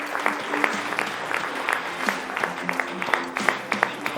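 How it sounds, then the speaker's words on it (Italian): Studio audience claps in a sustained round of applause, close and fairly loud, with individual sharp claps standing out from the dense patter throughout. "facciamo un applauso noi a voi e voi fatelo a noi"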